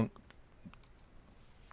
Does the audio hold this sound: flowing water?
no